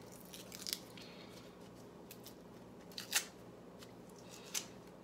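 A knife slices through a dried sausage in a quiet kitchen, giving a few faint, sharp crunching snips scattered across several seconds against near silence.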